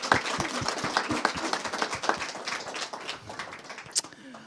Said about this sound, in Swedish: Ska vi ge klass 8F också en applåd?